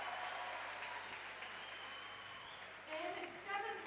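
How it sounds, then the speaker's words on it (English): Crowd applause at a Rubik's cube European championship as a competitor is introduced, a steady wash of clapping that swells slightly near the end, with a voice speaking over it. "Big cheer."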